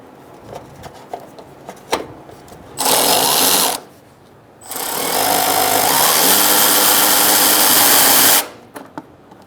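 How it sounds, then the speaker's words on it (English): A power ratchet removes a bolt on a 2014–2018 Subaru Forester during a windshield washer reservoir replacement, giving a short loud whirring burst followed by a longer sustained whir, set between quiet handling clicks. "a ratchet or power tool ratchet"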